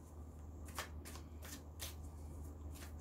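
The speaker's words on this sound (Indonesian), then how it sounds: "Saya akan mengambil kartu clarifier untuk core-nya" Tarot cards being handled and shuffled during a reading, several quick papery riffles and slaps in a short rhythmic burst, close and quiet with no talking.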